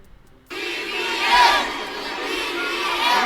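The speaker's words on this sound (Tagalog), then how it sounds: "Nagsisigawan po sila dito ng BBM" A large political rally crowd shouts "BBM" in unison, starting abruptly after a half-second of quiet and holding as a loud, sustained roar of many voices with a swell midway.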